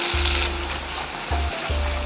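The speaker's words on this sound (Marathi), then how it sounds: "आता कढईमध्ये तेल तापत ठेवलं होतं मी. आता ही आपली ग्रेव्ही कांदा, टमाटर, काजू आणि मगजबीची त्याच्यामध्ये टाकून घेऊया." Onion, tomato, cashew and melon seed gravy hitting hot oil in a wok, a loud steady sizzle and crackle close by, with a low hum underneath and no talking.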